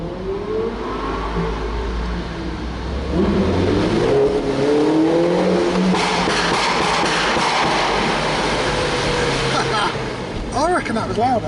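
Tuned JCW Mini Roadster and an Audi R8 racing through a tunnel, engines rising and revving loudly as they approach and pass, with reverberating roar and people talking over the noise.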